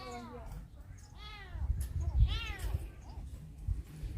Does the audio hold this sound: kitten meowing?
yes